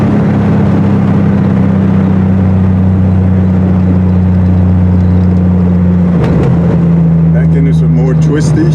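A Triumph TR6 cruises on a freshly repaved road in overdrive, its engine a loud, steady low drone heard from inside the car; the tone dips briefly around a shift midway, and a voice speaks over it near the end.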